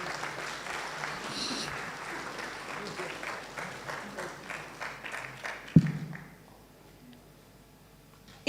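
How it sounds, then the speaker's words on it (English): Audience applause at a graduation ceremony, a steady patter of many hands clapping for several seconds that stops abruptly with a thump, followed by a quiet hall. "To the rest, let's clap for them"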